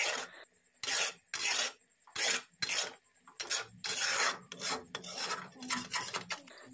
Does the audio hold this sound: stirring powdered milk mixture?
yes